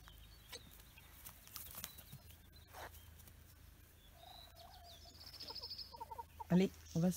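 Chickens in a permaculture garden cluck and call on their way into the winter coop for the evening, with scattered faint clucks that grow louder and closer toward the end, while a person speaks softly and calls to them.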